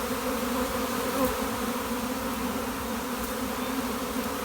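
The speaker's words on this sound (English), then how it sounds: "In the middle of the swarm here." Honey bee swarm buzzing all around at close range, a dense continuous hum of many wings, steady and loud with no voices.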